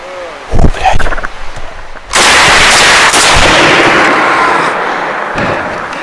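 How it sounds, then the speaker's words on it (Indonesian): A burst of gunfire: a couple of sharp shots, then a loud, sustained blast that rings out and slowly decays, with faint voices early on. "ini suara tembakan ini annoying banget yang ngebuat kuping lo gak nyaman"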